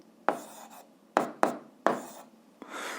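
Pen strokes on paper while working an 8th-grade algebra exercise, five or six short sharp scratches at uneven intervals, close and isolated.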